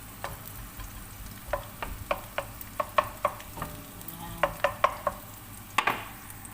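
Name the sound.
garlic frying and being stirred in a pan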